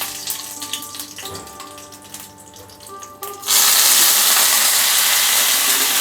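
Dry red chillies drop into hot white oil and ghee for chickpea dal. Quiet kitchen clatter gives way to a sudden, loud, continuous sizzle that holds steady to the end.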